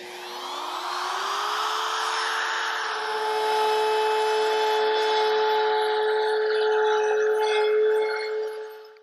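A wood router fitted with a down spiral bit spins up with a rising whine, then cuts steadily through wood for several seconds, loud and close, and winds down at the end.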